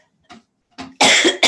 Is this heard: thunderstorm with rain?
no